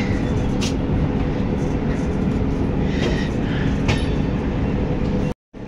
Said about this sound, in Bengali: আমাদের ট্রেন এখন এই জাস্ট কাটোয়া স্টেশন ঢুকছে